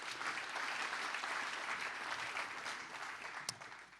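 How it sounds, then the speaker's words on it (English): Sustained applause from a church conference audience, a dense steady wash of many hands clapping throughout, fairly distant and even, with a faint hint of voices underneath. "Can we give them another round of applause?"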